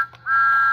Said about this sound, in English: He's a whistling Thomas.